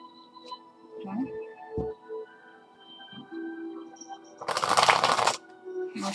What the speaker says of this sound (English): I'm going to shuffle those here,